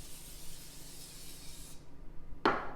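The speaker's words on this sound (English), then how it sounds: "Spray a little Pam into your 1 cup container for the corn syrup." Pam cooking spray hisses softly into a 1-cup container for a couple of seconds, stops, then a short sharp scrape or knock follows.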